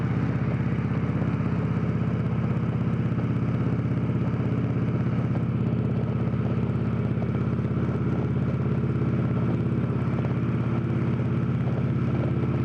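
Victory Cross Country touring motorcycle riding: a steady, low engine drone with wind rush that holds unbroken and fairly faint throughout, no talk.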